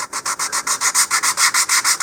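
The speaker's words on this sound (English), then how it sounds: "continue sanding and rolling my wrist here." Rhythmic sanding strokes on the hard corner edge of a model rocket part, about a dozen even back-and-forth rubs in quick succession, close and steady.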